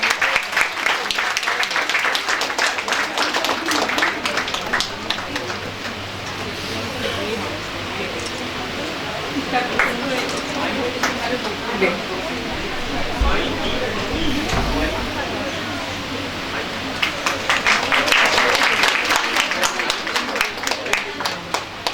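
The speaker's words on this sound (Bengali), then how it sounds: "আইবির জন্য একটা জোরে হাততালি হোক।" Applause for a student receiving a prize at a college topper prize-distribution ceremony: a crowd claps loudly and continuously, easing slightly in the middle before swelling again near the end.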